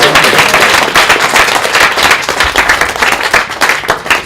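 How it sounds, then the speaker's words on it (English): Loud, dense applause from an audience at an entrepreneurs' event, a steady wash of many hands clapping close by for the full length with no gaps, a few sharper individual claps popping out of the mass. "Can we give him one more round of applause,"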